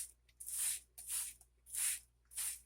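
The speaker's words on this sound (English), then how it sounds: "I'm going to get my spray bottle of water" Four quick bursts of water misted from a spray bottle onto a recycled paper window envelope, each a soft airy hiss about half a second long, evenly spaced and close.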